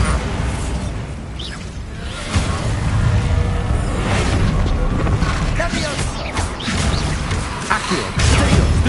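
Bombarda blasting spell detonating in Hogwarts Legacy combat, a loud cluster of crashing booms and impacts over about nine seconds, with battle clutter throughout and short shouted voice bursts mixed in.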